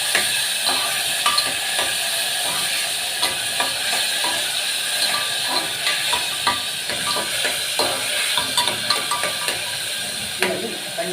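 Chopped ridge gourd and tomato sauté in a pan with a dense, steady sizzle, punctuated by frequent small clicks and scrapes of stirring that continue close and loud throughout.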